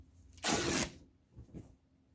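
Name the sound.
fabric tearing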